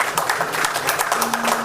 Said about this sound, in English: May we please have a round of applause for Mr.